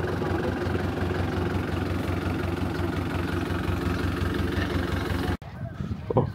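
A soybean seed sowing machine's engine idles with a steady, rumbling low chug for several seconds before cutting off abruptly, followed by quieter background noise.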